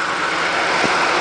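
A car engine idles with a steady, even low rumble and hiss throughout, with no voices.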